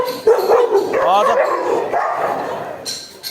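Dogs bark and yip close by in quick, excited bursts as a group of dogs attacks, with a whining, whimpering tone mixed in.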